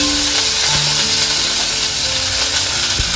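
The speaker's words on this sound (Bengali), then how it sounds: "এই যে শুকনো লঙ্কা এই ফোড়ন দিয়েছি" Dried red chillies crackle and sizzle steadily in hot oil as a tempering, with a dense, continuous frying hiss and a few faint clinks of a pan or spoon, no voices.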